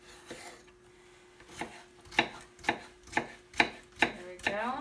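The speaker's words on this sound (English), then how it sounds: "now I'm gonna slice this one and then cut it in cubes" A knife slices and cubes an ingredient for cod liver salad on a cutting board, a series of about eight crisp, evenly spaced chops growing firmer and more regular, close and clear with no talk.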